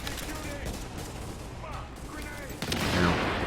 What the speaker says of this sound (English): let's pitch another grenade back there